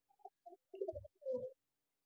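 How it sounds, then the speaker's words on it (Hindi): Pigeon cooing close by in a quiet space in Kolkata, a few soft, low, throaty coos in short broken bursts ending in a longer rolling note. "आपके सामने कबूतर है"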